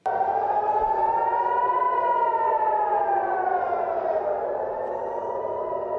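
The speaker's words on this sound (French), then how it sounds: "Les sirènes hurlent dans le sud d'Israël." An air raid siren wails in southern Israel, one loud, steady rising and falling tone that starts abruptly and holds for several seconds, heard alone.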